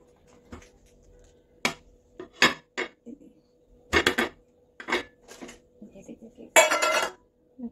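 Metal pans and utensils clank and clink close by as a red velvet cake pan, baked in a pressure cooker, is turned out onto a plate: scattered sharp knocks and rattles separated by short pauses.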